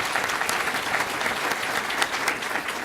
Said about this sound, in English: Round of applause for the sheriff.